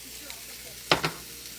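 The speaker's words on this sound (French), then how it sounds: "On fait sauter ça à la poêle." Yellow pepper and red onion sauté in a frying pan, giving two quick, close sizzling bursts over a faint quiet background.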